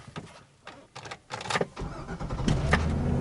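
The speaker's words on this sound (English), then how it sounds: "All right, let's fire this big boy up." A 2007 Chevrolet Silverado 2500HD with the 6.0 V8 cranks briefly and catches, settling into a loud, steady idle rumble close by, with no talking.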